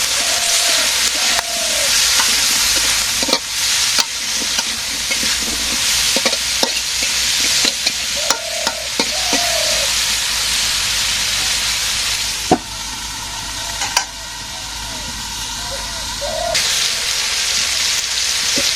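Curry being stir-fried in a pan: a continuous loud sizzle with frequent spatula scrapes and knocks against the pan, plus occasional faint chirps in the background.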